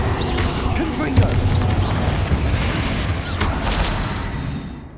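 Confringo fire spell blasts in the video game Hogwarts Legacy, a dense, continuous rumble of booming impacts and crackling bursts, loud and sustained with a heavier thump early on.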